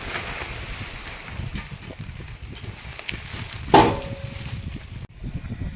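Strong gusty wind sweeps across an open farm field, roaring and buffeting the microphone in uneven surges, with one sharp brief knock partway through and a sudden drop near the end.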